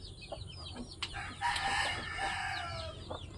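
Chickens cluck nearby on a farm with pigpens and ducks while a rooster lets out one loud, drawn-out crow in the middle, over a soft background hum.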